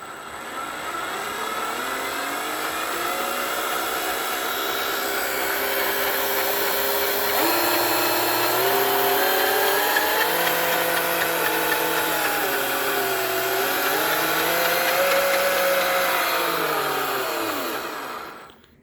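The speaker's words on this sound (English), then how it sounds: "I'll let you guys hear the motor." A JD Models Desert Runner RC car's electric motor whines loudly and steadily for about eighteen seconds, its pitch sliding up and down with the throttle before cutting off at the end.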